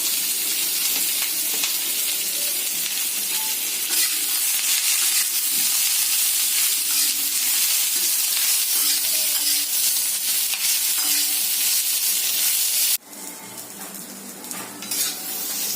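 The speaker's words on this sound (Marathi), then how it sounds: "आता आपण कांदे पण त्यामध्ये लाल करून घेऊया" Onions sizzle steadily in a pan with garlic and ginger for Malvani-style black pea sambar, with occasional stirring and utensil scrapes; the broadband frying hiss is loud and continuous and drops abruptly near the end.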